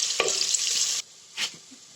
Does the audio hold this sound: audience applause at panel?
no